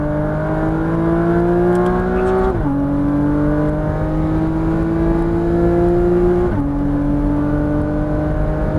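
Loud, steady engine drone of a Porsche Cayman GTS pulling out of a corner, pitch climbing in two long rising sweeps with a brief dip at each gear change, heard up close without talk.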